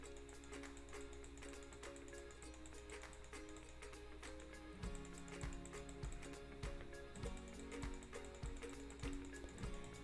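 Rapid mouse clicks from playing a Scratch pizza clicker game, a steady run of light, dry taps repeating throughout at a fairly even pace, close and moderately quiet under a faint tonal music background.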